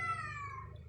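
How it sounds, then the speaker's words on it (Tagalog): A cat gives a single short, clear meow that trails off, close by and fairly quiet, with no one talking over it. "Yung ingay talaga ng pusa."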